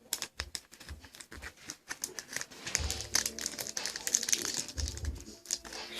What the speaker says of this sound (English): And then you take another piece of tape and put it on the other side.